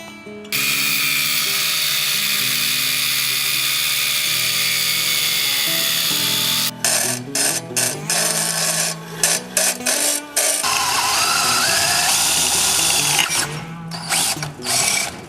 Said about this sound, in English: So this hole, which Coty so expertly drilled, is to place on top of the tripod